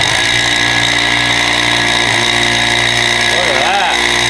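A homemade metal-cutting bandsaw motor spins with a loud, steady whirring hum, a few brief warbling changes near the end, and voices may be mixed in.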